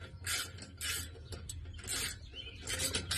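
Metallic ratcheting as an exhaust U-bolt clamp is tightened, in several short bursts of clicks with brief pauses between them, close up and fairly quiet.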